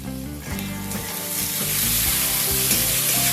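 Tomatoes with salt fry and get stirred in a hot pan, giving a loud, close, steady sizzle that swells toward the end, with the scrape of a spoon moving through the mixture.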